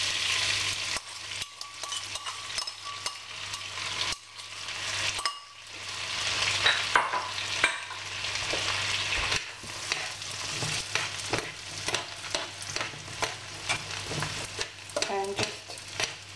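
Onions cook on medium heat in a pan for a meatball pasta sauce, with a continuous sizzle and frequent scraping, clinking stirs; the frying dips briefly around the fifth second.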